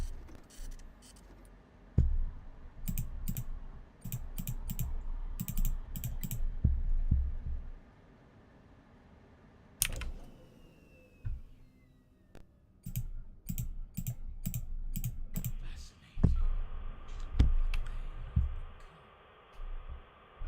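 Printer and vent noise in the Five Nights at Freddy's Pizzeria Simulator video game, bursts of rapid mechanical clicking and low rumbling separated by near-silent gaps, with sharp single clicks and a faint steady hum.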